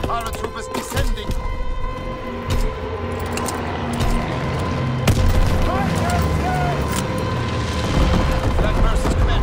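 Anti-aircraft flak bursts boom repeatedly in the Call of Duty: WWII video game, loud dull thuds scattered through a dense, roaring battlefield din with distant gunfire throughout.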